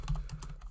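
Keys clatter quickly on a computer keyboard as code is typed for a Unity car-driving project, a short close burst of several distinct clicks with no talking.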